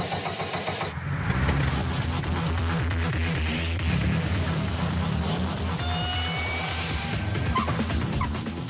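A customised quad-like sports car with a 240 hp engine starts up, a loud low rumble rising into a steady idle with a revving swell, while a dog yips in the background.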